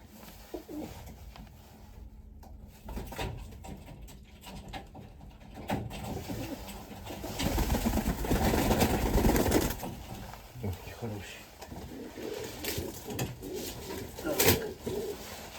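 Mykolaiv pigeons cooing in a loft, giving soft low coos and fluttering mixed with a steady room hum and handling noises, with a person speaking now and then over them.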